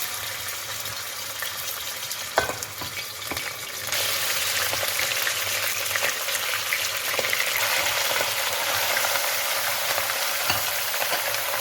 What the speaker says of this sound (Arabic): هنقلبها لحد ما اللحمة تاخد تشويحة كويسة